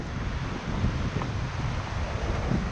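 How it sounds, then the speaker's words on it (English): Strong wind roaring steadily against the microphone near the Chalaadi Glacier in Mestia, a constant low rumble with gusty buffeting and no voices. "it's really windy now and it's a bit chilly"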